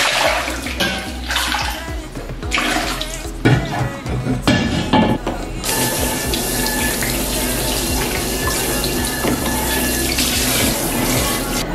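Hot tap water runs steadily into a cooking pot being rinsed in a kitchen sink, with a few clunks and splashes early on before a continuous close, loud gush of flowing water.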